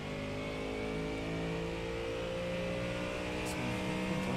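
Ford Mustang GT3 race car in iRacing, its engine droning and revving steadily at close range with a dense, constant roar and layered harmonics, no voices.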